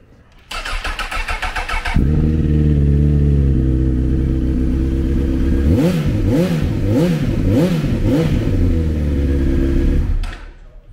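A 2006 Honda CBR1000RR sport bike in Repsol colours with an Akrapovic exhaust cranks over and fires into a loud, steady idle, then snaps through several quick rev blips before settling and cutting off, recorded up close.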